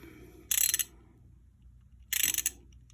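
A ratchet socket wrench works on the spark plug of a Generac 7550 EXL generator, making two short bursts of rapid clicking about a second and a half apart, close and fairly loud, with quiet between.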